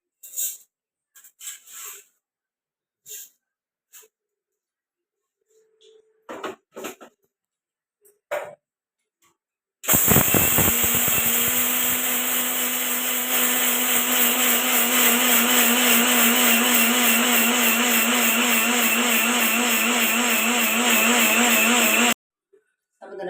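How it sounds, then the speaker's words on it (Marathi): Mixer grinder grinding sabudana (sago pearls), a loud steady motor whine running for about twelve seconds after some brief clicks and handling knocks, then stopping abruptly. "आता साबुदाणा बारीक करून घेऊया थोडा थोडा बारीक करायचा"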